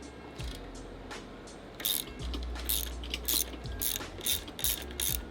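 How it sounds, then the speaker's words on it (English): Ratchet wrench clicking as the pinch bolt on a bicycle crank arm is loosened, in repeated short bursts of close, crisp ratcheting with brief pauses between strokes, during a bottom bracket conversion. "You gotta loosen the pinch bolt."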